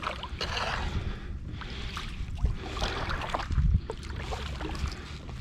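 Paddle strokes splash and swirl beside a kayak fitted with METER STAR inflatable pontoon stabilizers, with rhythmic watery surges over a steady outdoor background.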